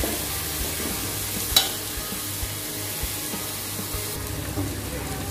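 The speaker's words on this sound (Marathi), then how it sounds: "आणि त्यातच मी आपली ढबू मिरची टाकते। हे सगळं आपल्याला छान 5 ते 7 मिनिटं परतून घ्यायचं आहे।" Capsicum and onion sautéing in a pan, with a continuous loud sizzle and the scrape of stirring, one brief clatter of the utensil, and no voices.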